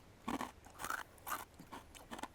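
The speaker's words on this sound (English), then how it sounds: "Let's try a couple of these corn nuggets first." Barbecue-flavoured corn nuggets from a military MRE ration crunched between the teeth, four or five loud, crisp bites and chews in quick succession, heard up close with no talk.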